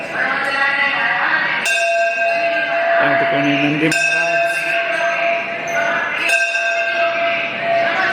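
A temple bell rings out along the Narmada parikrama route, struck in a few clear, resonant bursts that linger and overlap, with a voice talking steadily over the ringing.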